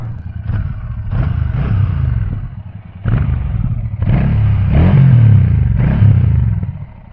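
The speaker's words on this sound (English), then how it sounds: "On the idle, it has that great deep rumble." A 2024 Royal Enfield Shotgun 650 cruiser's parallel-twin engine rumbles deep and loud up close, with several blips of the throttle that swell and fall back, adding a mechanical clatter.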